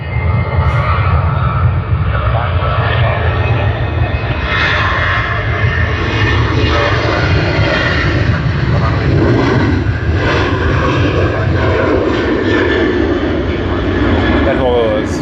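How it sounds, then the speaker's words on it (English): A Virgin Australia Boeing 737 jet roars steadily and loudly at Sydney Airport, a continuous broadband engine rumble filling the whole stretch, with talk faintly mixed in. "That was one of the very, very many Virgin Australia flights that we will see during the day on their Boeing 737s"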